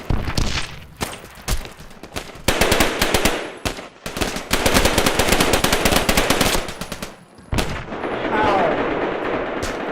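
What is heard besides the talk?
gunfire in a video game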